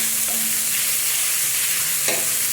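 Minced pork frying in a pan for an omelette, producing a loud, continuous close-up sizzle with a brief scrape near the end.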